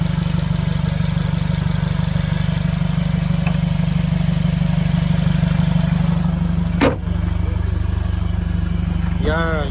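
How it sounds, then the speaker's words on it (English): A 2015 Mercedes CLA 250 4MATIC engine idles steadily and close by, with a noise coming from the valve body, one brief sharp knock partway through and a short rising whine near the end. "Yeah, you can hear something in the valve body."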